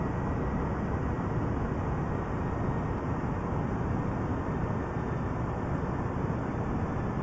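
Airbus A319 airliner descending toward Mykonos in Microsoft Flight Simulator, a steady broadband engine and air roar with constant loudness throughout, no voices.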